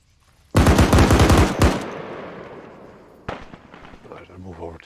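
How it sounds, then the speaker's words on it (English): Machine gun fire in the video game Arma 3 comes as a loud rapid burst of close shots, then a decaying echo, a second sharp report and a fading rumble. "They shot the building into pieces."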